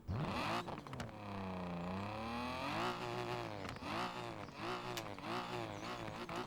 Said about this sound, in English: I don't think I've actually ever used this engine before. Sounds pretty good.